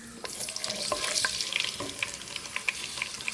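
Mustard seeds crackling and popping in hot coconut oil for a country chicken curry, steady sizzle with sharp scattered pops close up, no voices.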